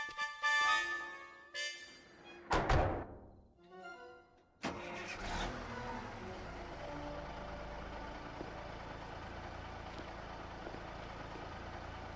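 A truck engine cranks and starts in a Tomb Raider 3 cutscene, with clanks and a rising crank, then settling into a steady mid-pitched idle rumble that continues to the end.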